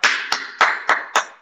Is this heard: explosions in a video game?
no